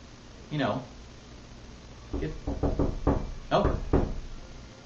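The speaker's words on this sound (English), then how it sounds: "the old knock joke thing on the door" Someone knocks on a door in two quick bursts of several raps each, fairly close, with a brief voice heard just before them.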